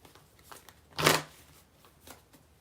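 A Moonology oracle card deck is shuffled once in a quick riffle, a short crisp burst of flicking cards, quiet and close, with a few faint taps around it.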